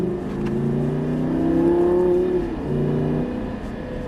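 Lamborghini Gallardo in the racing game Actua GT, a synthesized engine note climbing steadily in pitch as the car accelerates, then dropping briefly and rising again, loud and alone.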